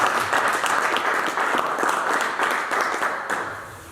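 A church congregation claps together, steady and loud, filling the room for a few seconds before the applause starts to fade.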